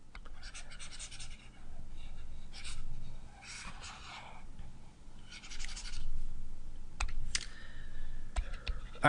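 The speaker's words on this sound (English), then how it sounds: "Let me erase some stuff." Chalk or marker being rubbed off a classroom board while working algebra problems, heard as repeated scratchy, rasping wiping strokes in bursts, fairly close, with no talking.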